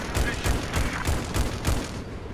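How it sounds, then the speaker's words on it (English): Rapid bursts of gunfire in the video game Battlefield 4, about six sharp shots in a quick, fairly even rhythm, loud and close. "Look, he's shooting up there."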